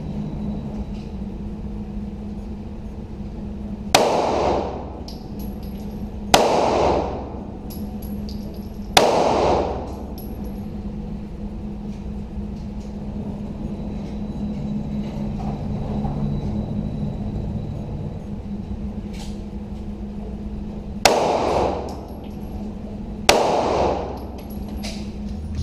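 Pistol shots fired at targets during a target acquisition drill, five sharp reports in two groups, moderately loud against a steady low hum with quiet gaps between.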